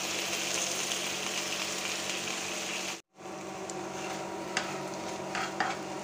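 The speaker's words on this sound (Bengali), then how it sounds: "টমেটো ভাজিটা অলমোস্ট হয়ে গিয়েছে।" Tomatoes with green chilies, onion, garlic and salt frying in a pan, a steady broadband sizzle with a few light stirring clinks, briefly cut to silence midway before the sizzle resumes.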